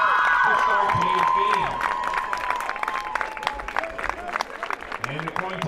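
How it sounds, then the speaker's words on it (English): A crowd at a high school varsity football game applauds the halftime honoree: steady, dense clapping and some cheers, with a whistling tone on top at first. The clapping thins slightly partway through but carries on to the end. "let's have a nice round of applause for our halftime honoree, Coach Nick Iannello"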